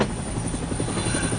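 A helicopter near a hospital rooftop makes a constant, loud, close rotor chop and engine roar through the whole short stretch. No voices are heard.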